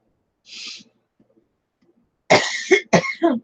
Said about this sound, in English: I got this little nagging cough has been just nagging me for a couple of weeks now